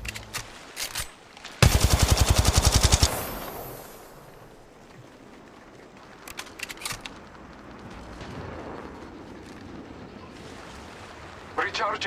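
A weapon firing in the video game Apex Legends, a loud rapid-fire burst of about a second and a half of evenly spaced shots, followed by scattered quieter gunshots and game ambience.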